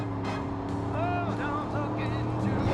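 In an open-world shooter, a car engine drones steadily in a low continuous hum while someone talks over it.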